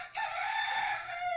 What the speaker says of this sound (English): I even got chicken sounds.